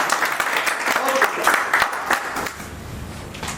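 Loud applause from an audience at a motivational talk on networking and wealth, with a crowd voice cutting through over the first half before the clapping thins and tapers off.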